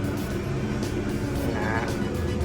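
A Hitachi LX100 wheel loader's engine drones steadily and loudly as the machine drives, a constant low rumble with no pauses throughout.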